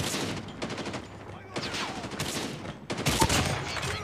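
Gunfire in Call of Duty, including sniper shots, comes as a dense run of loud cracks and rattling bursts with short dips between volleys and a heavy blast near the end, while a player talks over it.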